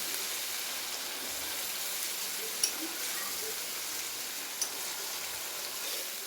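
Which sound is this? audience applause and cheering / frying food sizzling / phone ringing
frying food sizzling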